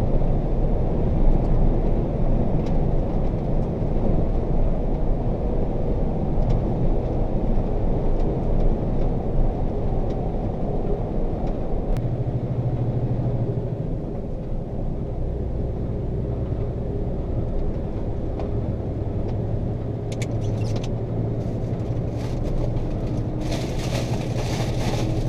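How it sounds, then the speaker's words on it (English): An old logging truck engine drones steadily at a flat-out cruising speed of 56 mph, a loud continuous low rumble with road and wind noise, the engine note shifting slightly partway through. "Back up to cruising speed, 56 miles an hour. That's flat out for this old truck."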